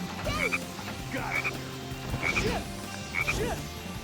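Frogs croak in the video game Sonic Heroes: four repeated croaking calls, roughly one each second, heard at moderate loudness over a busy game soundtrack.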